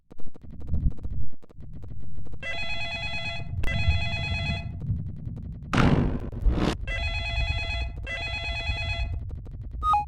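Telephone ringing in a Scratch-made FNAF fangame before the phone guy's call: repeated bursts of a bright electronic ring in a steady on-off pattern, over a low background hum, with a brief whooshing noise in the middle.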